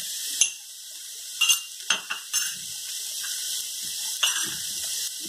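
Masala with ginger garlic paste fries in a pan for stuffed pointed gourd, a steady close sizzle broken by the clinks and scrapes of a spoon stirring against the metal.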